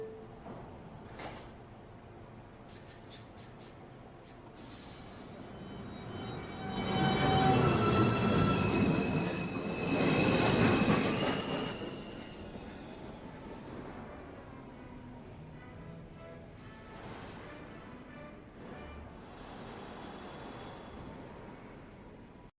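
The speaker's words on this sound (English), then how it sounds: "This is a Manhattan-bound 2 train." A Manhattan-bound NYC subway 2 train leaves a station, a low rumble swelling to a loud roar with squealing wheel tones, then easing to a steady fainter hum, no speech.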